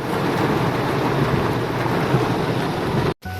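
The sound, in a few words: heavy rain during a drive near Mumbai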